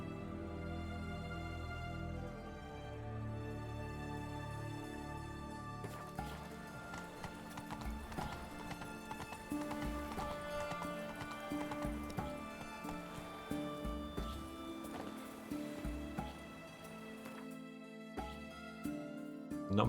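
Horse hooves clip-clop at a steady riding pace in The Witcher 3: Hearts of Stone, layered under continuous game music throughout.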